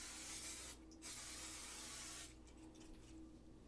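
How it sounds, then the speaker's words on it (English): Oil sprayed from a can onto a pizza pan for homemade pizza, two bursts of close hissing spray, a short one then a longer steady one, with a brief pause between. "Spray your pizza pan with oil"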